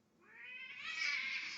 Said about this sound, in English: Kitten wants to fight him.